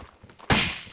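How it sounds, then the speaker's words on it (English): A single loud, close gunshot from the Resident Evil video game, a sharp burst with a short decaying tail, during zombie headshots. "I thought that Chris gets headshots more often, but she just got like two pretty quickly"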